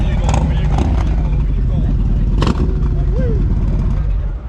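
A motorcycle with an added aftermarket exhaust idles and revs loudly close by, a continuous deep rumble with sharp bursts of throttle and a brief dip at the very end, with voices talking over it.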